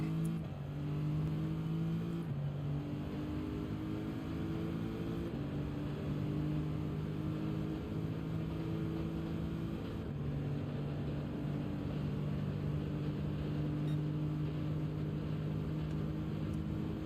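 A Lamborghini race car engine in Gran Turismo, droning steadily at high revs with sustained harmonic whine and brief dips during shifts, loud and continuous with no talk.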